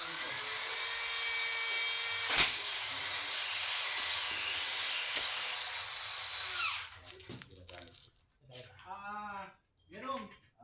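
A power drill whirs in a high, steady whine for about seven seconds, driving a flat screw into an aluminum glass-door frame, then stops abruptly, and people talk afterward.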